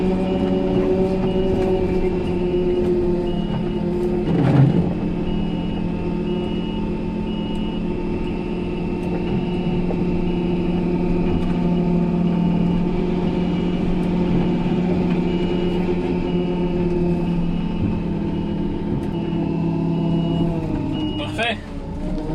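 A farm vehicle engine reverses across a field during haymaking, a steady droning hum with a constant tonal whine running throughout and a couple of brief louder knocks, close and continuous.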